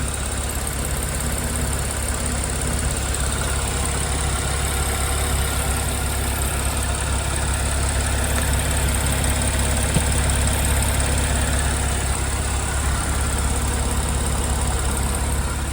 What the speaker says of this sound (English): just so you can hear the engine idling